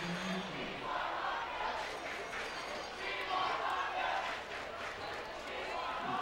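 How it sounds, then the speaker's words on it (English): A football crowd at a Dutchtown vs Destrehan game chants "We want Hahnville" in a steady, massed roar of voices that swells and holds throughout, fairly distant and diffuse. "The crowd is chanting, "We want Hahnville.""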